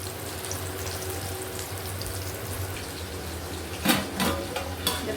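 Steady bubbling hiss of a pot of mutton biryani boiling on the stove, with a few louder splashy bursts near the end.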